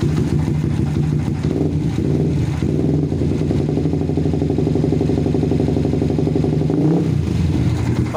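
A modified Yamaha Vixion touring motorcycle engine idles and revs close by, a rough, throbbing exhaust note with a steady pulse and a brief rise in pitch near the end.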